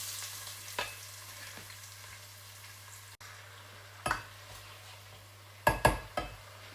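Onion fries quietly in a pot at the start of a potato porridge, giving a soft, steady sizzle broken by a few sharp clinks of a spoon against the metal.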